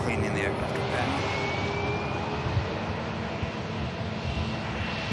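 Aircraft engines roar at Manchester Airport, a loud, steady, broadband rumble that holds without a break, with a voice talking over it.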